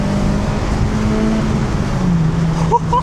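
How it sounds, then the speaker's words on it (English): An old Honda car drives through its gears, its engine droning steadily and loudly from close by, with no talk over it. "I just want to roll through the gears, bro."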